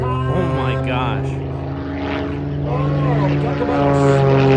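Vintage 1935 propeller airplane flying aerobatics at a World War 2 weekend airshow, a steady droning engine roar sustained throughout, swelling louder toward the end, with a voice talking over it.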